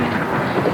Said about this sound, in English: when this cursed peal of thunder is gone